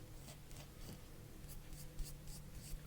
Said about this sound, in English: I'm going to go ahead and just do a little outline on the brow for you.